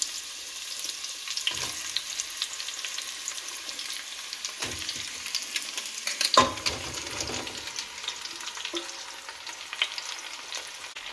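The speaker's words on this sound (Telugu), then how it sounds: "నెయ్యి వేసుకున్న తర్వాత గుమ్మడికాయ పీసెస్ని" Pumpkin pieces being fried in ghee inside a pressure cooker, with a soft, fairly quiet sizzle running throughout, broken by a few dull knocks and clatters of a spoon or vessel; no speech.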